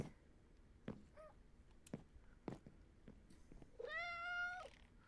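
A Minecraft cat meows in the video game, with one drawn-out, harmonic meow near the end following a few short chirps and soft taps, heard fairly clearly with no talking.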